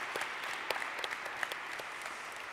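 An audience at a school presentation evening at Maurick College applauds. The clapping is fairly quiet and scattered, with a few sharper individual claps standing out over about two and a half seconds.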